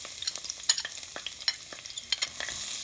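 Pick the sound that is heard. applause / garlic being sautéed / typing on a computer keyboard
garlic being sautéed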